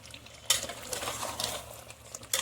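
Chicken frying in a green coriander and chilli paste while being stirred, with soft sizzling and a steady run of scraping spatula strokes against the pan, close and quiet with no talk.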